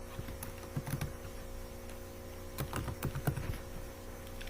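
C code being typed on a computer keyboard, with soft irregular key clicks in short bursts and pauses, fairly quiet and close, with no voices.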